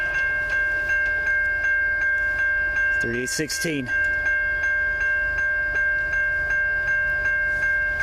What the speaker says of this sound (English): Here's our northbound sand train as we lean back and get him.